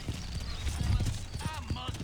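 Horse hooves clip-clopping on a street in Red Dead Redemption, a steady patter of hoofbeats running under background dialogue and game ambience.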